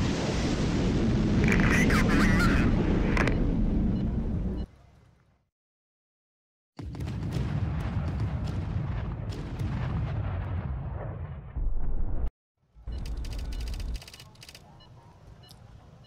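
Missile strikes pound a ship in the naval strategy game HighFleet, heavy booming blasts rolling in long bursts broken by brief silences, loud and close with a voice talking over parts.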